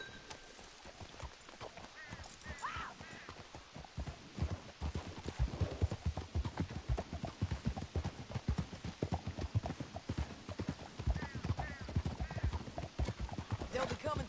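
Horse hooves from the video game Red Dead Redemption 2 beat in a quick, steady galloping rhythm, with occasional whinnies and faint voices in the background.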